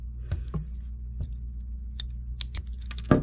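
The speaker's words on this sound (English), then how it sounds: "cut down with the razor blades, kind of rock it back and forth to peel that" Razor blades cut and peel gray insulation off a LocoNet cable in a quiet room, giving a scattered series of small, close clicks and scrapes, with a louder scrape at the end.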